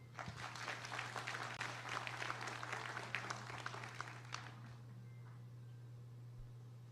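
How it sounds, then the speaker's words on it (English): An audience at an official hospital program launch in the Philippines claps steadily for about four seconds, then the applause tapers off into a low electrical hum. "A round of applause."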